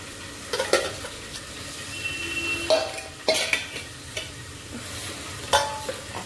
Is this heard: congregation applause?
no